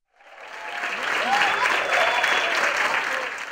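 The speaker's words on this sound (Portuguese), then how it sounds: "Foi neste clima de muitos aplausos" An audience applauds at the Festival de Música Brasileira of the Conservatório Carlos Gomes. The dense, even clapping fades in quickly and holds steady and full for several seconds.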